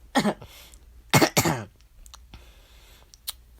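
A few sharp, close coughs in quick bursts, followed by fainter throat-clearing sounds against a quiet background.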